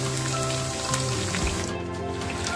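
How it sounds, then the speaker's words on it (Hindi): Sabudana pakode deep frying in hot oil, a steady, continuous sizzle and bubbling that stays even throughout with no talking. "अच्छी फ्राई हमारी यहाँ पे हो रही है, डीप फ्राई हो रही है।"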